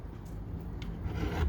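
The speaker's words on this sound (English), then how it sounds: "So now I'm going to just come with my sanding block and" Brief close rubbing of a sanding block over cured epoxy, a few quick gritty scraping strokes.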